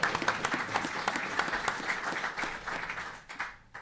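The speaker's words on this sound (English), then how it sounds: "That's worth a round of applause." An audience applauds at a live public government press event. The individual claps are distinct and fairly faint, holding a steady patter before thinning and fading toward the end.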